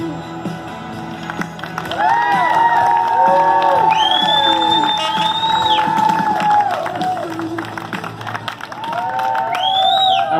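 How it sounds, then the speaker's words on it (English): Crowd at a political event applauding and cheering, with whoops and shouts rising over steady clapping, loud and sustained throughout. "Give a round of applause."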